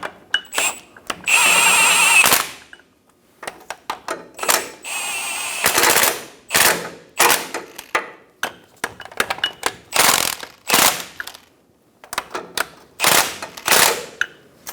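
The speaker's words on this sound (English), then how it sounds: "Snug the bolts down." Bolts on the differential mounting brackets of a 2014-2018 Chevrolet Silverado 1500 are snugged down with a power tool, a series of loud rapid mechanical rattling bursts broken by short pauses and clicks.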